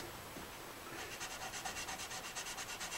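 A 400 grit Kay K300 fret eraser is rubbed on guitar frets, a soft scratchy back-and-forth rasp that starts after a brief quiet moment and repeats in quick, even strokes close to the microphone.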